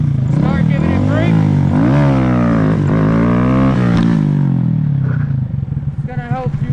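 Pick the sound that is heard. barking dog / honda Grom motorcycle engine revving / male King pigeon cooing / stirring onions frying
honda Grom motorcycle engine revving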